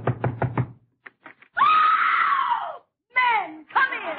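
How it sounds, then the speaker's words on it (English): Someone knocks on a house door in an old Abbott and Costello comedy broadcast, four quick raps followed by a few softer taps, then a long shout and more voices. "Go ahead and knock."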